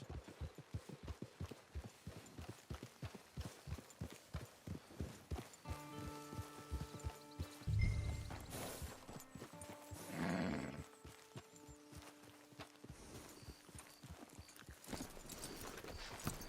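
Horse hooves clip-clop steadily on the ground in the Red Dead Redemption 2 video game as a rider approaches camp, a brisk rhythmic walk with a brief whinny midway and ambient game sounds behind.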